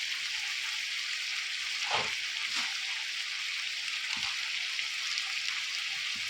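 Spices for biryani stirred and fried in a pan, a soft, steady sizzle with a few faint scrapes of the spoon, fairly quiet and unbroken, no one talking.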